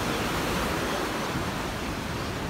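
The Teesta River rushes past near a dam, a loud, dense, unbroken roar of flowing water filling the whole moment with no voices.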